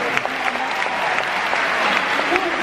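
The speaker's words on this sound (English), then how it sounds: "Yes, please clap for the teachers here." A book tour crowd in Birmingham, Alabama claps for teachers. The applause is loud and close, an even burst of many hands, with some murmuring voices mixed in.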